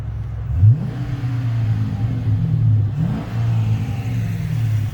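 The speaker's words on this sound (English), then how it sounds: "It's a V8 Hemi." A 2012 Dodge Charger's V8 Hemi engine idling close by, a low steady rumble that rises in a couple of short revs and settles back.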